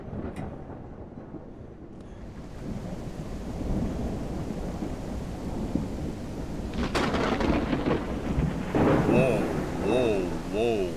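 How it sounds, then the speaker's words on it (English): Heavy rain pours steadily with deep rolling thunder in a Backrooms video game, a loud crack and rumble rising partway through, and a voice talks briefly over the storm near the end. "Do these thunderstorm sounds give you anxiety, or does it calm you?"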